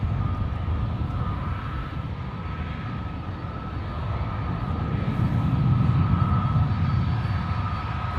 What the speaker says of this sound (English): We got Air France Sky Team on final, and then Qatar right behind them.